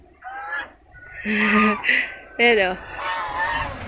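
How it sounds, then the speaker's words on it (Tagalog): A black backyard chicken raised for tinola calls in loud, close squawking bursts, with someone speaking over and between the calls. "Eto yung manok ko."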